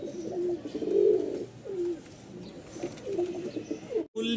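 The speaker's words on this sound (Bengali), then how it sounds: "আরও এক জোড়া কবুতর পেয়ে যাচ্ছেন, ঝুটি মোজাওয়ালা।" Giribaz pigeons, including a crested pair with feathered feet, coo in low rolling bursts at a pigeon sale in Mirpur-1, Dhaka, repeating several times close by with faint background noise and no talk.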